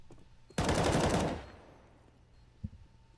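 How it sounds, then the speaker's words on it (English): Desert Eagle pistol fire in a Counter-Strike match on Mirage during a post-plant round: a loud, dense burst of shots lasting under a second, then a fading tail and one softer thump later. "Sonny getting to work with his deagle"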